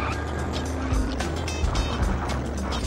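Car engine and road noise from The Simpsons Road Rage video game, a steady, fast-driving roar with small bumps and thuds, continuous and close for the whole stretch.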